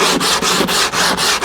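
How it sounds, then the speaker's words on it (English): Sandpaper rubbed briskly along the edge of a freshly cut wooden board for a bushcraft tree table; about six quick back-and-forth strokes rasp close up in a steady rhythm with brief gaps between them. "sandpaper."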